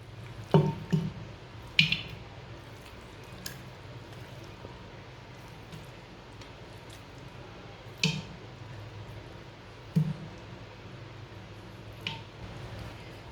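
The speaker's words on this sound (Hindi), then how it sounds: "गोश्त डाल लेंगे इसमें।" Raw mutton pieces dropped into a clay cooking pot, a handful of soft wet squishes and slaps spaced apart, faint against a quiet room.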